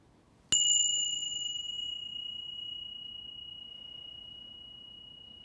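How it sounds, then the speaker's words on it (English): A single clear meditation bell strike rings out after a moment of quiet during a mindfulness session, its pure tone sustaining and slowly fading over several seconds. "I'll ring the bell in a minute again."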